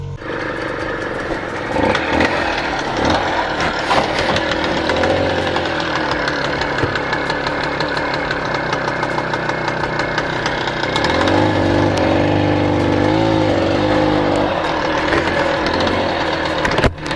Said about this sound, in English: Okay, away we go on the Tomas.